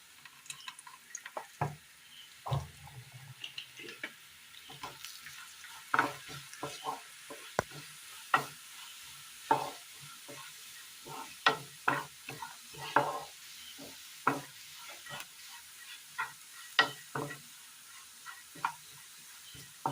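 Spice powders fry in a little oil while a spoon stirs them, with repeated scraping strokes and soft sizzling at an irregular rhythm throughout, fairly quiet and close.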